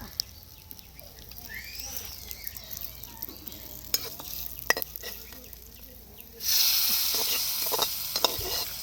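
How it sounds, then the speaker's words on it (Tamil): A tadka of curry leaves hits the dish with a sudden loud sizzle that swells and stays steady, following a stretch of soft stirring and utensil clicks. "நம்ம தாளிப்பு ரெடி ஆகிடுச்சு அப்படியே சேர்க்க வேண்டியதான்"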